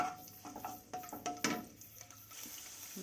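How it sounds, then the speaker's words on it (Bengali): Dried chilli and garlic cloves stirred in hot oil in a pan: a faint low sizzle with a few soft clinks and scrapes of the spoon, quiet and close, without speech. "এটা একটু নেড়ে চেড়ে"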